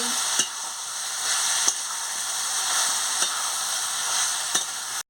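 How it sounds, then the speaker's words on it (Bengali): Pointed gourd, ridge gourd and potato frying with turmeric in a pan make a steady, close sizzle. Four or five sharp spatula scrapes of stirring break through it at intervals, and no voices are heard. "আমি হলুদের গুঁড়ো দিয়ে দিচ্ছি, দিয়ে ভালো করে ভেজে নিচ্ছি।"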